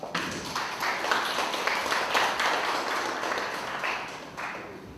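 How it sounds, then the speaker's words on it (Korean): A church audience at a Liberation Day rally gives a sustained round of applause to welcome a speaker, with many hands clapping in a moderately loud, even wash throughout. "모실 때 박수로 환영해 주시기 바랍니다"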